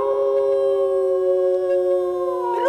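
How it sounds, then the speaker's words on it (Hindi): A dog howls in one long, steady, mournful tone that holds evenly before breaking off at the end, used as a comedy sound effect in a ghost-story scene. "दूर कोई कुत्ता रोता है"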